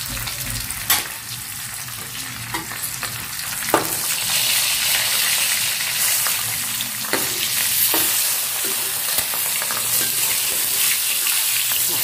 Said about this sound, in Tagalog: Basta magpinirito ako